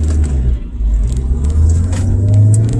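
Heard from inside, a car pulls out onto a highway with a loud, steady low engine and road rumble that builds slightly as it accelerates, and no one talks.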